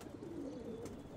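Pigeons coo softly at their loft as night falls, a low continuous murmuring that holds steady throughout at a distance, with no talking.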